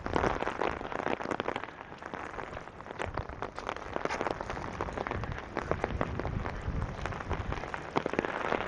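Steady rain patters densely on an umbrella and the street while someone walks through Regina in June, a constant close crackling wash with no pauses.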